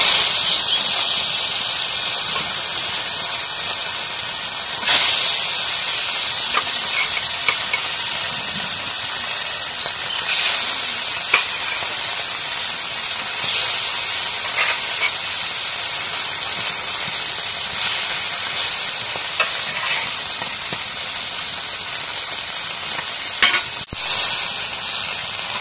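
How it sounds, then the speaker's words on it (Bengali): Fish sizzling in hot oil in a wok: a loud, steady frying hiss that runs unbroken throughout, with small crackles and spatters scattered through it and no voices. "এখন তেলটা গরম হয়ে গেছে, মাছগুলো দিয়ে দিই।"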